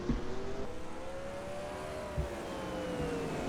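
Late model race cars circle an oval track, a distant, steady engine drone with a rising pitch sweep as a car accelerates, faint and continuous throughout.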